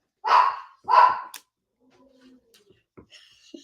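A dog lets out two loud, gruff, growl-like barks close by in quick succession, followed by faint scattered soft sounds.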